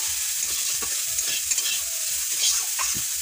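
Steady loud sizzle of food frying in a pan until browned, with repeated soft scrapes and taps of a stirring spoon throughout and no talking.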